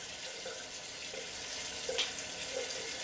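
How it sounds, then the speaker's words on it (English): Tap water runs steadily into a bathroom sink during face washing, a soft even hiss with faint splashes, heard from a short distance at low volume. "So let me wash my face."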